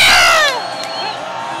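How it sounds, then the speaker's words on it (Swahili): A crowd at a Yanga club parade in Msimbazi cheers and whoops loudly, the roar peaking at the start and then settling into a sustained, slightly quieter din of shouting voices. "ni shangwe hilo la Alikamwe"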